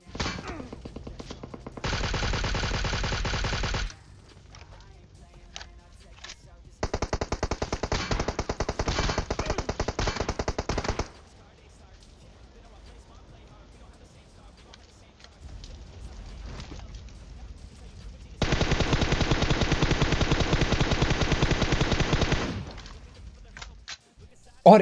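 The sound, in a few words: gunfire in a video game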